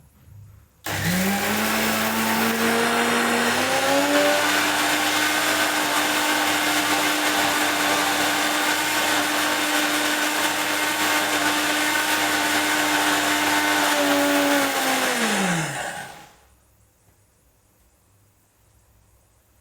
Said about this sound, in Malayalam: സ്വിച്ച് ഓൺ ചെയ്യട്ടെ. അത് വേവുമ്പോഴത്തേക്ക് കർമൂസ് വെന്ത് വരുമ്പോഴത്തേക്ക് നമുക്ക് തേങ്ങ ഒന്ന് അരച്ചെടുക്കാം.